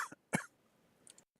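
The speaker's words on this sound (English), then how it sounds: "Excuse the cough." A single short cough comes from a person, brief and fairly faint, set among a few soft mouth noises in an otherwise quiet room.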